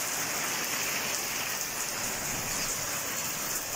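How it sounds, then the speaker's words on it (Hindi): Heavy, stormy monsoon rain pours onto a house rooftop in a steady, dense hiss, with close drops spattering continuously and no voices. "ये देखें दोस्तों बारिश तेज है।"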